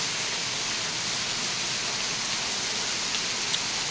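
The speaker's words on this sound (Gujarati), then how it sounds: "આમ જોઈ શકો છો તમે કેટલો વરસાદ પડે છે." Heavy rain falls in a continuous, even roar, with a faint single drip or tap standing out near the end.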